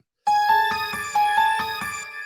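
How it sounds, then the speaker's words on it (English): A phone sounds a text message alert, a bright electronic melody of repeated chiming tones that plays twice in a row, close and clear with no talking. "See, texts are coming in"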